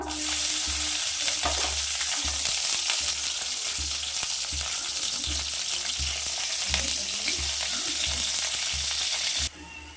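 Green chilies frying in peanut oil give a strong, crackling sizzle close up, with rhythmic stirring scrapes every second or so throughout, dropping suddenly quieter just before the end; no one speaks.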